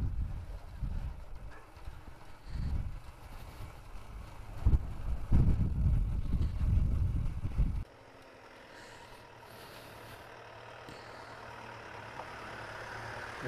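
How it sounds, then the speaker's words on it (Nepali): Strong wind buffets a microphone on a mountain road in the Helambu area of Sindhupalchok, Nepal. Loud, low rumbling gusts last about eight seconds, then drop to a quieter, steady background rush. "हावा चाहिँ बेसी लाग्दैछ"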